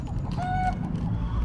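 Chickens on the island of Tahiti cluck and call outdoors, a few short squawks over a steady rumble of outdoor background noise.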